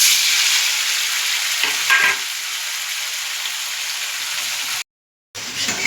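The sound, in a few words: paneer frying in a wok on medium heat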